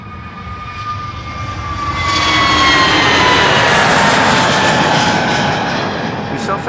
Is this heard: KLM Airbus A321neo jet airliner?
yes